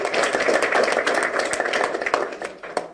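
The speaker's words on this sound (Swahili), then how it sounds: "Makofi mengi sana kwa Simba Sports Club." A crowd applauds, many hands clapping in a dense, steady patter that gradually thins toward the end.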